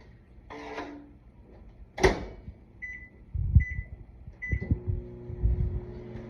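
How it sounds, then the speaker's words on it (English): A microwave hums steadily with a few faint beeps, punctuated by a door clunk and some handling knocks nearby. "pop them in the microwave for about 15 to 20 seconds, just so they can soften up a little bit"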